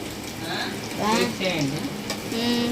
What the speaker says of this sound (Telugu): కాళ్ళు ఎలా ఫ్రై చేస్తే మీకు చూపిస్తాను